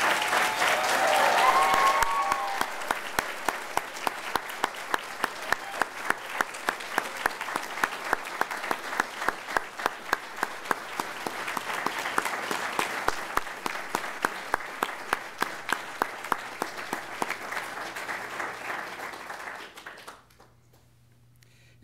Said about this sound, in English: We would like to request that all graduates please stand for one last round of applause.